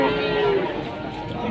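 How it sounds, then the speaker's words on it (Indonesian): At a cattle market in Pati, Central Java, where cows, calves and bulls are sold, a cow gives one loud, close moo that fades into busy background noise. "sapi betina atau sapi indukan plus anak dan juga sapi toro di pasar sapi Pon Ulaan Jaken"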